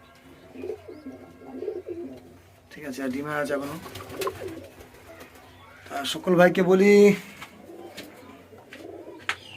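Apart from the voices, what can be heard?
pigeons cooing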